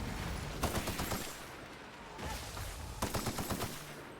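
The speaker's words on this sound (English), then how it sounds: "This is what I get for bringing a corrosive machine assault rifle with me." A corrosive machine assault rifle fires in the video game The Outer Worlds, rapid bursts of automatic gunfire in rattling clusters with brief pauses between them, fairly faint.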